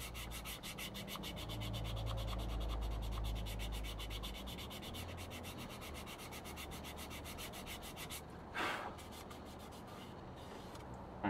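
A coarse sanding stick rubs back and forth over a plastic part of a 1/48 scale Junkers Ju 88 A-4 model kit, a steady close, continuous scratchy sanding with no talking.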